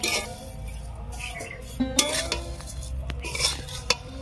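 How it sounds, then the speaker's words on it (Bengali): Shemai vermicelli frying in ghee in a pan while being stirred, with a steady soft sizzle under scraping, clinks and a few sharp utensil knocks against the pan, close by and without talk. "সিমাইগুলো আমি ঢেলে দিয়েছি, এবার এইভাবে ভাজতে থাকবো।"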